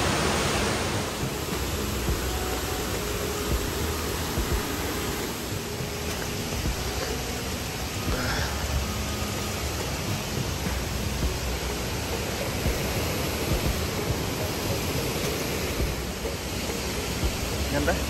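Bega Falls waterfall pours steadily in a mossy forest, a dense, even rushing roar that holds at the same level the whole time.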